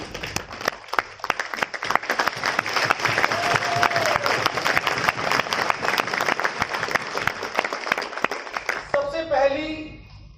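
Audience applause fills a Safe Shop business meeting: dense, sustained clapping from a large crowd for about nine seconds, fading as a voice begins speaking at the end.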